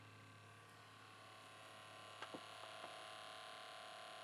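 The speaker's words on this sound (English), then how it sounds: "You hear the motor running?" A Sanyo M-7790 AM/FM radio cassette player runs its tape motor, which needs new belts: a faint, steady electrical hum with a few small clicks partway through.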